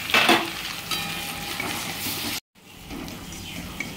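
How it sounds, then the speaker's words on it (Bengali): A spice paste of tomato, ginger, garlic and green chilli frying in a pan for potato and prawn curry, a close hissing sizzle with stirring, broken by a brief cut to silence before the sizzle resumes. "সেই পেস্টটা দিয়ে ভালো করে মশলাটা একটু কষিয়ে নেব।"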